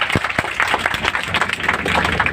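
An audience at a school Republic Day celebration applauds a speech, a loud burst of many hands clapping at close range with a few sharper individual claps.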